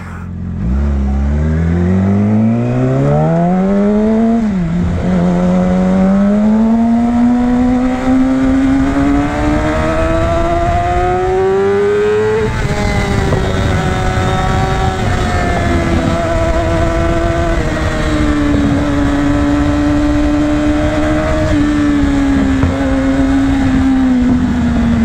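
A Yamaha R6 motorcycle with a Two Brothers exhaust accelerates hard, its loud close engine note climbing in pitch, dipping briefly at a gear change and then holding a sustained high-rev wail.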